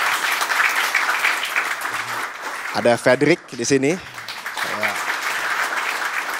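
Audience applause for Olympic medal-winning athletes at an appreciation evening, steady clapping running beneath someone speaking over it in the middle.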